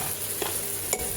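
Chopped onion frying in a pan, a steady close sizzle with two brief stirring scrapes, alone and without talk.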